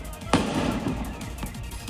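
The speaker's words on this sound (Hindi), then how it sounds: "ये धमाके दुकान में रखे फ्रिज के कंप्रेसर के फटने से हुए" A sharp blast bursts out from a fire in a closed shop, where refrigerator compressors exploded, then low rumbling crackle follows and a fainter second bang comes a moment later.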